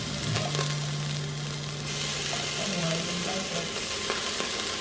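Four garlic cloves dropped into a very hot Instant Pot, giving a steady loud sizzle and frying hiss close by, with a faint hum running underneath.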